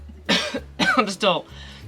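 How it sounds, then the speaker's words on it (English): A few short, harsh coughs in quick succession, close and clear, with a throaty catch between them. "I still cough if I talk way too much."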